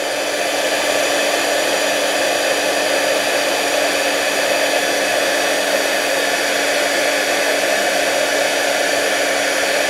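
A heat embossing tool blows hot air in a loud, steady, unbroken whoosh close to the listener for the full stretch, with no other sounds.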